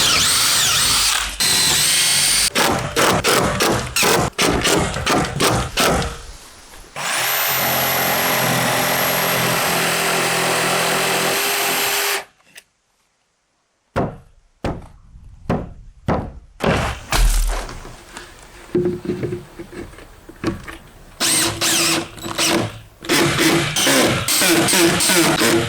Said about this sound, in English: I will continue drilling a hole over here and here